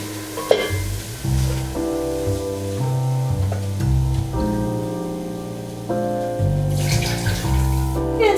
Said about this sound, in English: you add your 2 cups of milk.